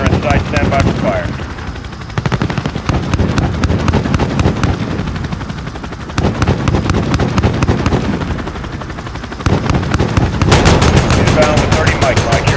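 Dense automatic gunfire and explosions from the Call of Duty Modern Warfare video game, with a helicopter thrumming beneath a near-continuous stream of loud rapid shots and short pauses, and radio-style voices talking over the battle.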